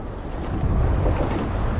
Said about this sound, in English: Wow, that wind is insane, and that current is ripping.